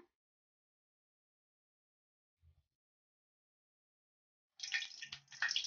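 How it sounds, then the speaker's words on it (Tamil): Cooking oil poured into a kadai to start tempering for sambar rice, a brief liquid pouring stream near the end after a long near-silent stretch with one soft knock. "தாளிக்கிறதுக்கு ஆயில் ஊத்துங்க"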